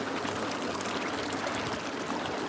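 Water churns and splashes steadily in a swimming pool as someone swims around in circles, a continuous close wash of sloshing without pauses.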